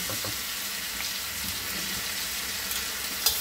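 Garlic and onion sizzle and hiss steadily in a hot pan, a bright, continuous frying crackle with faint scraping touches, close and even throughout.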